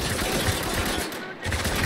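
Dense, rapid gunfire rattles through a firefight in Spec Ops: The Line, a continuous automatic barrage that briefly dips before resuming at full intensity.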